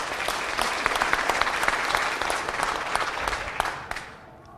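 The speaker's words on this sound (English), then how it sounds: "Give them another round of applause." Crowd at a Los Angeles City Hall business event gives a round of applause, a sustained wash of clapping at moderate level that thins and fades away in the final second.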